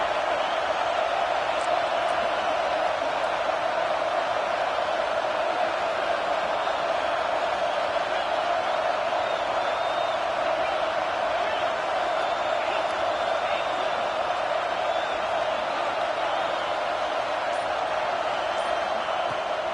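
A college football stadium crowd at an Oklahoma versus Georgia game roars as a steady, dense wash of noise that stays constant throughout, with no clear breaks or individual voices standing out.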